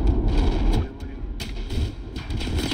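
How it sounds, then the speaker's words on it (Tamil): A tank cannon fires in the Battlefield 6 video game, with heavy booming blasts and rumbling battle noise, loud and close, while people talk over the action. "இன்னொரு ஷாட் அடிச்சேன் டேங்க்"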